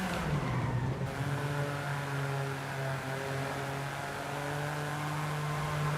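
A car engine in Forza Horizon 5 holds a steady droning tone through a corner on a lap, with a drop in pitch near the start that settles into a sustained, moderately loud hum with no voices.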